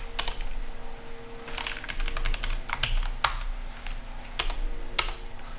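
Computer keyboard typing to search for a field in a quick edit tutorial: quick bursts of crisp key clicks, then isolated individual presses, close and clear over a faint background hum.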